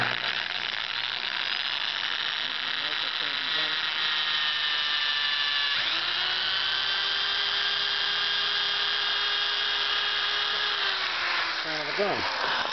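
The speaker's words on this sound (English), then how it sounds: "drill a hole back here." A power drill whines steadily and loudly at close range, its pitch dipping briefly under load midway and winding down near the end.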